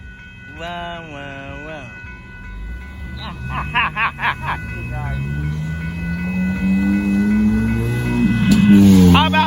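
A northbound CSX auto train rumbles past at Dittmar Road in Austin, Texas, sounding loud, sustained horn blasts in several short and long bursts over the rolling clatter of the cars, while a nearby voice exclaims.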